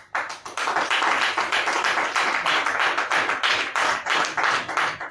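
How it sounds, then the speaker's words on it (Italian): An audience at a public talk on mafia, environment and infrastructure breaks into sustained applause, a dense, loud clatter of many hands clapping steadily for several seconds with no voices over it. "Un applauso alla memoria del cardinale"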